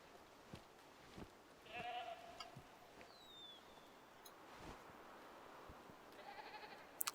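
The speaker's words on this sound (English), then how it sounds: "It's like the goats are coming over." Goats bleat faintly and at a distance in the hunting game Way of the Hunter, in its Matariki Park area, with a couple of short calls scattered among soft ticks and quiet ambient outdoor sound.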